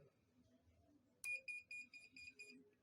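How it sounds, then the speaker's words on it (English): A loud electronic beeping from a 12V power supply's short-circuit protection starts abruptly, a rapid series of high-pitched pulses repeating steadily, close by with faint background hum. "the beeping sound you are hearing is from my power supply"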